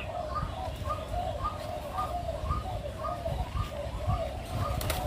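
Spotted doves at a bird farm in Ca Mau coo in a repeating rhythmic pattern over a low, steady background rumble, moderately near.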